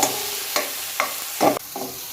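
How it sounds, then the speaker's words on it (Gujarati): Tomatoes fry in a pan for dhaba-style paneer bhurji, a steady sizzle broken by several rhythmic scraping stirs of a spatula, close and fairly loud. "ટામેટા જ્યાં સુધી આપણા વગળે નહીં ત્યાં સુધી સરસ શેકી લેવાના છે"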